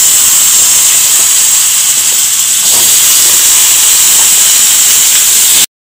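Small potato pieces with vegetables hit hot oil seasoned with five-spice for cauliflower samosa filling, giving a loud, continuous hiss and sizzle that holds steady before cutting off abruptly.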